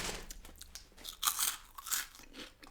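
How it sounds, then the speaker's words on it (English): Crisps from England crunch loudly and close up while being chewed, a series of sharp, crackly bites and chomps repeating over a few seconds with no talking. "Nice flavor, nice crunch."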